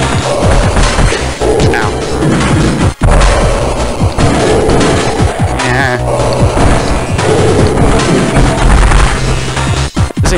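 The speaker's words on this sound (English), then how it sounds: "your missiles just bounce off if it's like nothing" Missiles fired at a boss in Metroid Fusion strike again and again, giving loud repeated crashes and thwacks over dense battle noise.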